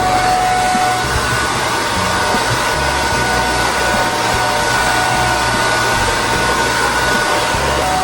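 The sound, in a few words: blow dryer with diffuser on low heat, cool setting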